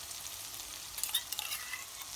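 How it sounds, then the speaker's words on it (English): Chopped tomatoes go into a hot pan as a curry base over medium heat, giving a faint, brief hiss and sizzle with a few soft crackles rising toward the middle. "So these are chopped tomatoes I'm putting in."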